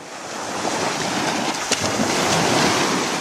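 Sea waves wash steadily against a shore in Greece, a continuous broad roar of surf mixed with gusting wind noise on the microphone, close and fairly loud throughout.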